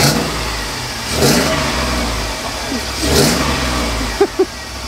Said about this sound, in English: So you give it some gas now.